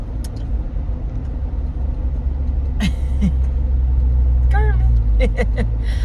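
Road traffic behind city buses heard from inside a car: a steady low engine rumble and tyre drone, with brief brakes or squeals and voices briefly audible over the hum.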